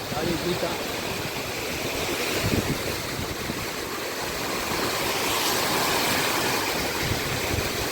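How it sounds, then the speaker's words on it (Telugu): Strong wind with rain sweeping across a banana plantation, a steady loud broadband roar throughout with gusty buffeting on the microphone. "గాలి వాన అసలు రెండు కలిపి వస్తున్నాయి"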